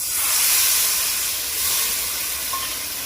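A splash of water meets frying cumin, coriander and garam masala spices for a mutton curry, giving a loud, close, continuous steamy hiss and sizzle that swells and eases slightly with no voice over it.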